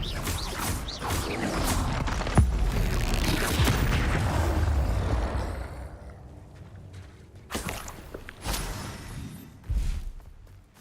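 Spell blasts from Hogwarts Legacy burst in quick succession with cracking booms and whooshes, a dense loud barrage that thins into a few sharp isolated impacts.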